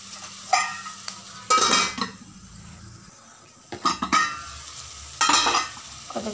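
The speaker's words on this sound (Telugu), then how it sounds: "కొద్దిగా కలుపుతానండి అటుని బాగుంటుంది" A spoon stirs an eggplant and potato masala curry in a pan, scraping and clinking in three separate bursts against a soft background of sizzling.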